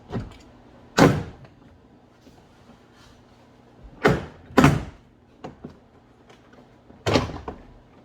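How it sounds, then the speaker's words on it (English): A 2022 Ram 1500 door panel is pried off its clips, giving four sharp plastic pops and cracks spaced a few seconds apart, with faint rustling between them. "I'm going to pull the whole door panel out towards me."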